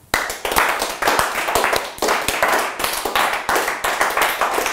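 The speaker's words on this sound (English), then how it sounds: "Give yourselves a round of applause." A class claps in a dense burst of applause that carries on steadily and loudly for several seconds, with a slight rhythmic pulse in the clapping.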